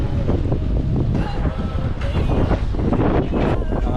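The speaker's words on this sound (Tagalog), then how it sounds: "Ang hangin." Steady wind buffets a boat out at sea during a fishing trip, a loud continuous roar of gusts and microphone rumble with no clear pauses.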